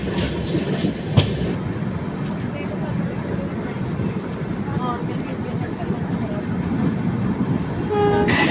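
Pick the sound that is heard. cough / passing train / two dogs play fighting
passing train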